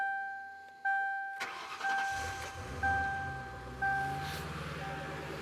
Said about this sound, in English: So yeah, we gotta do a burnout in the driveway.